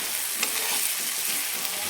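Steady, close sizzle of masala spices frying in hot oil for mutton curry, a dense crackling hiss with small pops and no voices.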